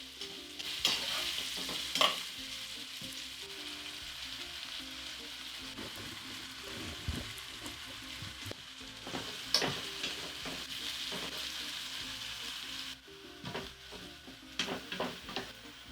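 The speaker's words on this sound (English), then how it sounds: "So we want to cook this onion until it gets color" Onions cook in vegetable oil in a pot for chicken curry, a soft continuous sizzle punctuated by occasional stirring scrapes and light utensil taps, fairly quiet and close with no speech.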